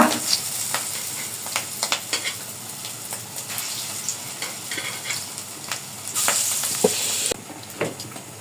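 Food crackling and sizzling in hot oil, with irregular pops and spits over a steady hiss, close by and without talk.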